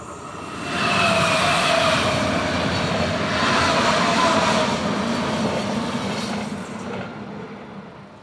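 A train rolls past nearby with a swelling rumble and faint wheel squeal, holding steady for several seconds before fading away.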